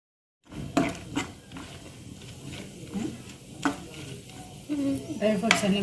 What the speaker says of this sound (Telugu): డ్రై ఫ్రూట్స్ అన్నీ బాగా ఫ్రై అయినాయండి.